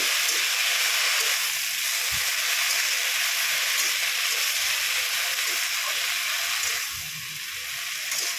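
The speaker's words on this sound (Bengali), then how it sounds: "লবণটা দিয়ে আমি একটু নাড়াচাড়া করে নিলাম।" Salted water spinach greens sizzle steadily in a hot pan, a continuous bright hiss with faint stirring scrapes underneath, close and fairly loud, easing slightly near the end.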